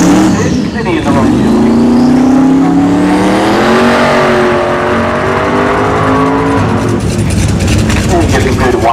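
A drag race car at wide open throttle howls loud and close, its engine pitch climbing steadily through the run before fading, while an announcer talks over it at a Cadillac Attack drag racing event at Orlando Speed World.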